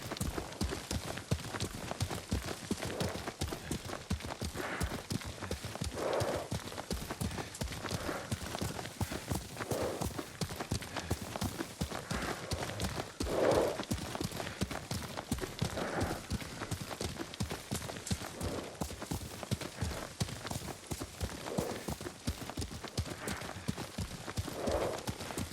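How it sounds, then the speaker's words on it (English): Horse hooves gallop in a steady, repeating clip-clop during a mounted ride in the samurai action game Ghost of Tsushima, continuous and fairly close throughout, with ambient game sound around it. "Lord Sakai taught me to ride a horse."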